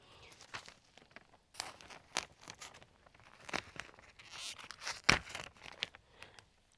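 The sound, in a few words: cutting open a plastic soil bag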